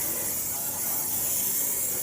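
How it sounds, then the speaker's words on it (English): Cooking pan spray hisses steadily onto a casserole dish in one continuous light burst lasting about two seconds, close and clear with nothing else sounding. "Get a little pan spray, just a light layer."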